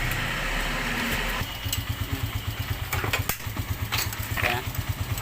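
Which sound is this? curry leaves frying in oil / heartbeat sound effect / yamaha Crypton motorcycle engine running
yamaha Crypton motorcycle engine running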